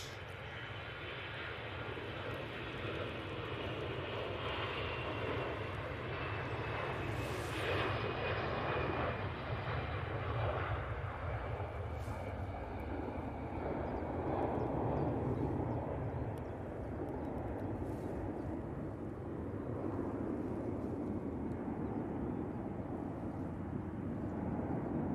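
An EasyJet airliner rolls down the runway on takeoff at an airport, its jet engines giving a steady, loud roar that swells and holds for the whole stretch with no voices over it.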